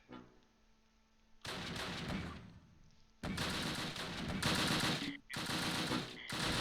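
Bursts of rapid automatic gunfire crackle in Close Combat Last Stand Arnhem, a WWII battle game: three loud, dense volleys with brief pauses between, set against a quieter background.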